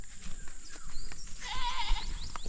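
Goats bleat nearby on a farm in a short burst, a wavering cry standing above steady rustling background noise.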